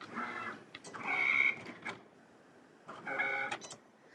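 A Cricut cutting machine cuts iron-on vinyl, making two close whirring, buzzing passes of motorised movement with brief clicks and a quiet pause between them.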